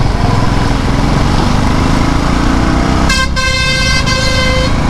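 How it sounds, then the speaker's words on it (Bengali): Heavy road traffic with motorbikes, a loud continuous roar of engines close by, with a sustained car horn blaring near the end. "heavy traffic,"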